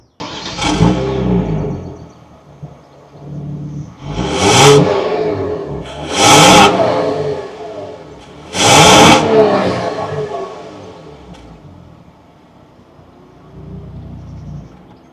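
A Kia Stinger on its stock factory exhaust revs in three sharp, loud bursts over a rumbling idle, close by, before it settles into a softer low drone.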